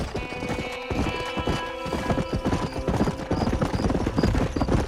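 Horse hooves clip-clop rapidly in a steady gallop rhythm in Red Dead Redemption, close and loud, with a snort or whinny and faint clattering mixed in.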